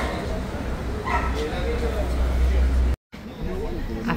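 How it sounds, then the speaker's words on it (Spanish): Customs dogs bark at night at a ferry port, sending out scattered yips and barks through a continuous hubbub of nearby voices. "Ladran los perros."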